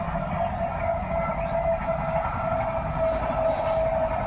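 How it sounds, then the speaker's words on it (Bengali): An express train rolls past, bound for Howrah, with a loud steady rumble and rattling wheels on the rails under a sustained mechanical whine, holding constant close by throughout. "তো আবার একটা ট্রেন যাচ্ছে, দেখা, এটা কিন্তু এক্সপ্রেস ট্রেন।"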